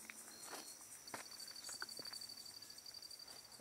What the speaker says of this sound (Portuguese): Tô quietinho aqui no mato escutando, só tem só grilo.